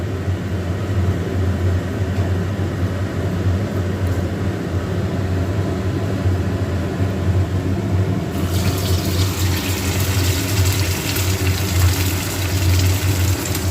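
Rui fish kofta fries in hot oil, a steady, dense sizzle that runs without a break and grows brighter and louder in the second half.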